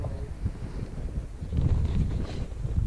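Gusty 30-mile-an-hour mountain wind buffets the microphone on an icy early-spring peak, a steady low rumble that swells louder in the second half, with no voice.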